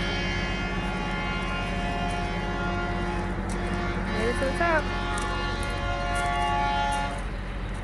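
A train rumbles and drones steadily in the background in New Hampshire's White Mountains, with a voice speaking briefly over the continuous mechanical hum.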